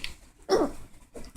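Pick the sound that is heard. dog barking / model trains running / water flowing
dog barking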